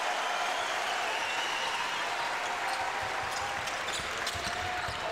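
A college basketball arena crowd roars and cheers after a dunk in a Duke versus Virginia Tech game, a loud, dense, continuous swell of noise with no pause.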